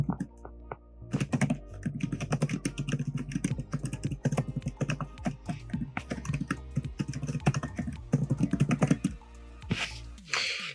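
Rapid, uneven keystrokes on a computer keyboard, close and fairly loud, with bursts of clicking and brief pauses between words and a heavier thunk near the end; no talking.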